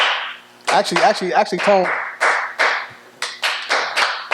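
Hand claps struck in an uneven rhythm, a dozen or so sharp close claps after a brief burst of singing, with people talking around them on a casual podcast set.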